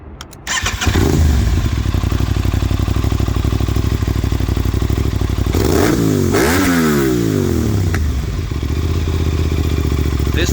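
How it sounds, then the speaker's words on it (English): An Aprilia RS660 motorcycle with an SC Project SCR1 racing exhaust starts up and idles loudly with a deep, throaty exhaust, then revs sharply several times before settling back to a rumbling idle. "I went with the SC Project SCR1 racing exhaust, and even though I couldn't get the baffle out"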